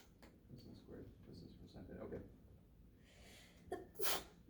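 A single sharp sneeze bursts out near the end, following faint murmured talk during a quiet math lecture.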